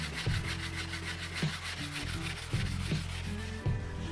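Rubber abrasive pads rubbing back and forth on a panel saw's tooth plate during a cross-to-rip tune-up: steady, close, rhythmic scrubbing strokes, loud and continuous, with no talk.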